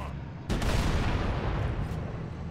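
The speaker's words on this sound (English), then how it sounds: "Good shooting, Johnson" Gunfire in the game Halo CE during a firefight with a Hunter, a dense sustained roar of shots and booms that kicks in abruptly after a half-second lead-in, loud and continuous with no talk.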